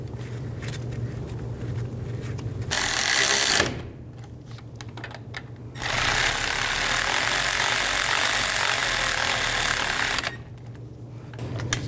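Brake caliper bolts on a 1999-2007 Chevy Silverado 2500HD front hub are run in with a power tool, giving two loud whirring bursts close by: a short one of about a second, then a longer one of around four seconds.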